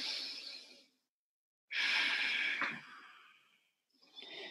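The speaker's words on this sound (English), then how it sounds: "So I want you to just take three deep breaths into your abdomen." Three long, deep breaths drawn in and let out slowly through the abdomen, close and quiet, each a soft airy sigh with pauses between, during a guided relaxation for pregnancy.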